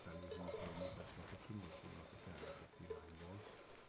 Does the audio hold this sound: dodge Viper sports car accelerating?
no